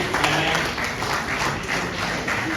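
A business luncheon crowd of the Island Club in Onikan, Lagos, gives a big round of applause, a dense, steady patter of many hands filling the room for a few seconds with no talk over it.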